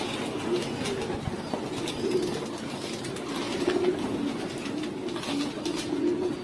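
Racing pigeons coo steadily in a loft, their soft, overlapping throaty calls rolling on continuously at close range.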